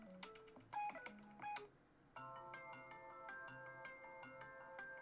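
A phone alarm ringtone sounds from a handset, starting with quick bouncy electronic notes and pulses, then switching to a steady rhythmic chiming marimba-like pattern that repeats at an even pace, moderately loud with no talking.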